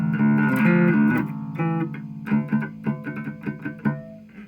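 A distorted electric bass plays a melodic line, sustained notes at first, then shorter plucked notes with a gritty, fuzzy edge, loud and alone.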